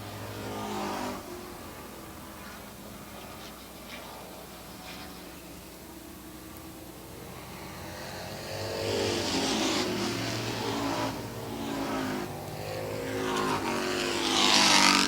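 Race cars circle a track during a race, their engines droning at a distance before swelling louder as cars pass, with revving and roaring building toward the end.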